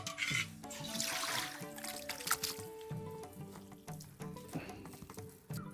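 Water draining from cooked rice-flour ada for Kerala adapradhaman payasam, a close trickle and splash with clattering of pots and vessels, intermittent and uneven.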